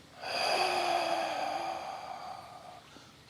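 A single sharp, forceful breath exhaled through the nose and mouth during a dragon stance breathing exercise, rising quickly and holding a breathy, slightly tonal rush for over two seconds before fading, heard alone and up close.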